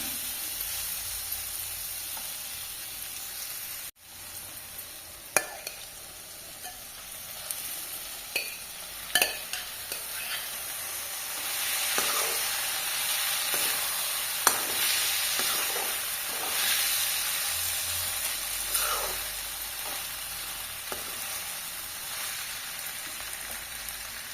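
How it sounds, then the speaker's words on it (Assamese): Pasta tipped into a pan of cooking vegetables for a homemade wheat-flour pasta, sizzling and frying steadily with a soft hiss, while scattered clicks and clatters of stirring rise above it; no voices. "চব্জিখিনি সিজিছে, মই এতিয়া পাস্তাখিনি দি দিম ইয়াতে।"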